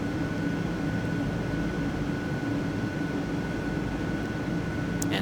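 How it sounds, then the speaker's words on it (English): A jumbo jet takes off on a single engine and climbs at full power, producing a steady, broad roar with a constant whine running under it, even and continuous throughout. "And now pretty much engine's full power, so we can begin our climb."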